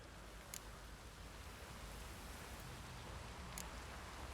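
Rain falls in The Witcher 3 video game as a soft, steady hiss of drizzle with no break, with a few faint drop-like ticks scattered through it.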